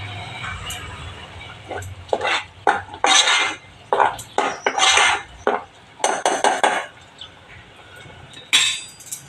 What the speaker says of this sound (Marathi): एवढं पण ठेवून छानपैकी त्याला तेल सुटेपर्यंत परतून घेणार आहे